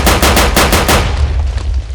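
An M1911 pistol firing explosive rounds in the Crafting Dead mod fires about seven rapid, loud shots in under a second, and the final blast trails off into a booming decay.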